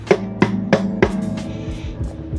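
Knuckle knocks on the wooden body of a Maestro acoustic guitar, four sharp, evenly spaced raps near the mic, each followed by a resonant ringing tail, then a few softer taps fading out.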